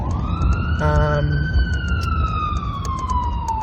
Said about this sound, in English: Lovely ambulance in downtown Seattle.